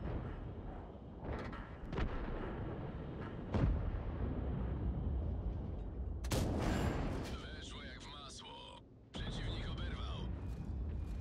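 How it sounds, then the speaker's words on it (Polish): Tank cannon fire aimed at a building in World of Tanks, several sharp booming shots with rumbling tails spread across the clip, and someone talking over the gameplay. "Ja strzelam, żeby rozwalić budynek"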